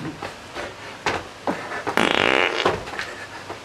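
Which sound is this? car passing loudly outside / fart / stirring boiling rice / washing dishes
fart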